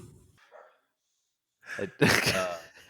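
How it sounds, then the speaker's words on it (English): A dog barks in the background of a podcast recording: a muffled rough outburst after near silence, with faint voices before it. "Fucking dog."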